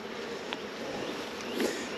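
Honey bees hum from an opened beehive box, a continuous close buzzing drone with a few louder passes as individual bees fly near.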